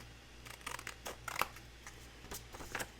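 Scissors snip through paper in a few quick, crisp cuts at close range, with small rustles between them. The sound is faint and heard alone.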